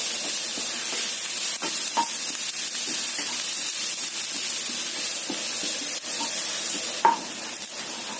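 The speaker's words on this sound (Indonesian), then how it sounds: "Kemudian kita tumis dulu bawang putih dan bawang merah yang sudah kita cincang tadi." Chopped garlic and shallots sautéing in hot oil, a loud, even sizzle that runs the whole time, punctuated by occasional spatula taps against the pan.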